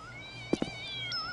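A short video-game cat meow, two quick close bursts, over a faint steady electronic game background tone.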